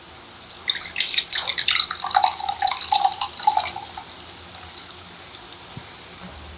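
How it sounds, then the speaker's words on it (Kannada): Ponnalige leaf water is strained through a strainer into a glass, giving a bright trickling splash that runs for several seconds and then thins to faint drips. "ಆ್ಯಕ್ಚುಲಿ ನಾನೀಗ ಈ ಗ್ಲಾಸಿಗೆ ಸೋಸ್ಕೊಳ್ತೀನಿ"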